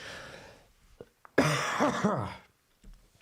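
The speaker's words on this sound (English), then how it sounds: "Sorry if I keep coughing" A person coughs in a few harsh, close bursts, followed by a short throat-clearing, then quiet.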